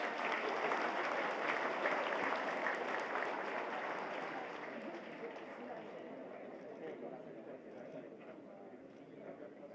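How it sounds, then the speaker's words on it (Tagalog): Large audience applauding at the Philippine Military Academy commencement exercises in Baguio City, a dense steady wash of clapping that starts loud and slowly fades over ten seconds, with crowd chatter mixed in. "You clap your hands."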